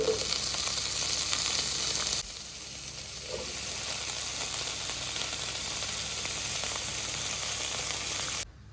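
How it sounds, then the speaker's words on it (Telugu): Boiled cauliflower frying with onions in a pan, a loud steady sizzle that drops sharply in intensity partway through and then continues evenly until cutting off near the end, without speech. "ఉల్లిపాయలు బాగా వేగినాయి కదండి, ముందుగా బాయిల్ చేసుకున్న గోబీ వేసుకుంటున్నాను"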